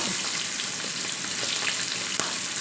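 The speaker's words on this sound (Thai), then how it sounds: "ทอดแป๊บนึงก็เอาขึ้นได้แล้วนะจ๊ะ เพราะว่าปลาทูมันสุกไว" Mackerel frying in oil, a dense, even crackling sizzle that holds loud and close throughout with one small clink near the end and no talking.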